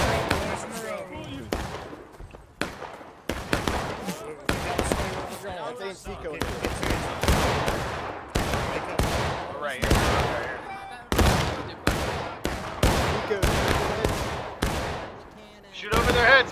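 Musket fire in the Civil War video game War of Rights: dense, irregular volleys of sharp cracks going on throughout, many shots overlapping near and far, with voices talking under and between them.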